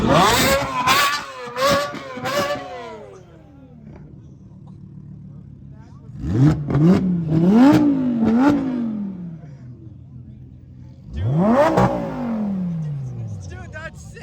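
A twin-turbo car at a Goldrush Rally revs in several sharp bursts, rising and falling in pitch, in three loud clusters with a low idle between them, while people shout and talk over it.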